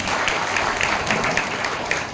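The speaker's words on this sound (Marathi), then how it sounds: "टाळी वाजवायची" Hearty crowd clapping rings out at an Akhand Harinam Saptah kirtan in Sarvali, a full, close burst of many hands with sharp individual claps popping through the continuous wash.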